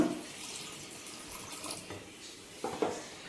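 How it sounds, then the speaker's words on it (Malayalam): Faint running water trickles and splashes, pouring softly into a pot of rasam with a couple of brighter gurgles toward the end. "ഇനി കുറച്ച് വെള്ളം ഒഴിച്ച് കൊടുക്കുക"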